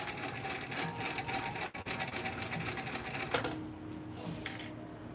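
A sewing machine stitching through a Gucci bag during an upcycling job runs in a fast, steady mechanical chatter, close and moderately quiet, with a brief pause partway through and no talk.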